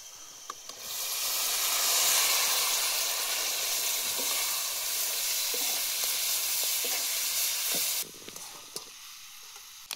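Tripe fries in black masala on an outdoor riverside fire with a loud, steady sizzle that bursts in after a quiet start, holds for several seconds, then drops off sharply near the end.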